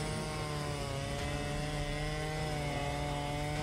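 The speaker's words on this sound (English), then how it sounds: "the chainsaw allows the user to easily cut through the trunk" A chainsaw engine roars steadily as it cuts through a tree trunk, loud and close, with a continuous droning whine throughout.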